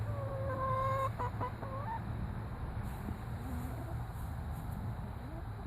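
Hens cluck in a few short, faint bursts against a quiet outdoor background.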